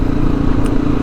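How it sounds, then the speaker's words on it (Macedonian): A motorcycle rolls over a cobblestone street in Ohrid, its engine a steady, close, loud drone with a rough rattling vibration from the uneven stones throughout. "мене ми смета бидејќи ми треси многу моторот"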